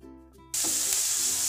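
Onion drops into hot cow ghee and bursts into a loud, steady sizzle of frying that fills the rest of the moment.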